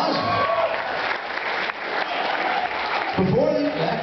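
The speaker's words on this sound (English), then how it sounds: "Give him a round of applause" Audience applause at a stage hypnotist show, sustained clapping with crowd noise and a voice speaking over it near the end.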